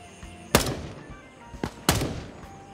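Three sharp shotgun blasts ring out in the jungle warfare of Gray Zone Warfare, fairly distant and irregularly spaced, the first and last loudest with brief echoing tails.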